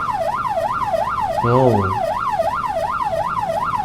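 An ambulance siren wails continuously in a fast rising-and-falling pattern on a Malaysian road, loud and close, with a brief voice-like sound cutting in partway through.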